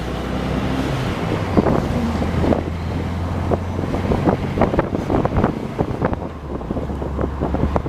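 A 1972 Volkswagen Beetle convertible driving with the top down, steady engine rumble under heavy wind buffeting on the microphone, with scattered rattles and bumps, no talking.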